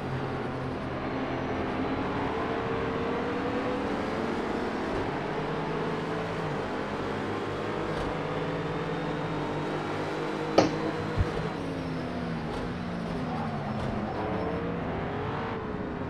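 GT3 race cars lapping Le Mans' Bugatti Circuit in a racing video game, a steady loud engine drone with shifting pitch as gears change, and a couple of sharp clunks near the end.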